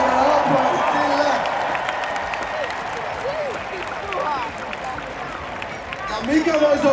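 Huge crowd of tens of thousands at the Lions' gold medal celebration beside the Olympic Stadium, applauding and cheering in a broad, sustained roar with scattered shouts, some voices rising above the mass.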